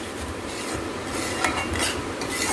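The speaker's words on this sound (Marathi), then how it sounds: "आता उपमा करणं चालू आहे." A spoon scrapes and stirs upma in a pan on the stove, a soft continuous rasping and rubbing at low volume, steady throughout without talk.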